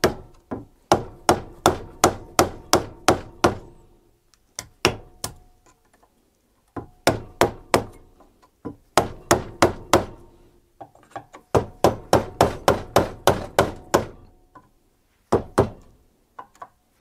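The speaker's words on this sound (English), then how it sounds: "Decided it'd be easier to hammer these inwards than outwards." A hammer strikes stuck front brake parts from a 2007 Ford Ranger 2.5 clamped in a vise, sharp metallic blows in quick bursts of several hits separated by short pauses, loud and close.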